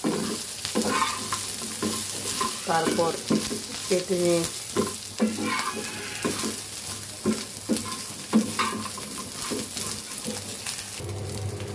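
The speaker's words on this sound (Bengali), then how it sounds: "এই যে দেখুন, হয়ে গেছে ভাজা।" Dried taki fish (shutki) stir-fried in a pan over high heat, a steady loud sizzle broken by repeated scraping strokes of the spatula, close, with someone speaking briefly over it.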